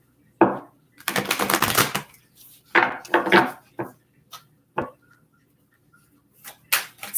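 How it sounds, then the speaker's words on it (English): Tarot cards are shuffled in a series of close, crisp riffling and tapping bursts, separated by short pauses. "just one more shuffle here"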